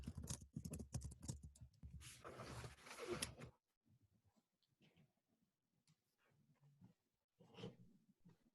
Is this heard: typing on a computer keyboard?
yes